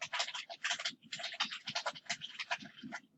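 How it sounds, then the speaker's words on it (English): Steady typing on a computer keyboard while entering course information into Slack, a fast, close, irregular clatter of key taps that keeps going without pause. "and then you can start typing your syllabus information."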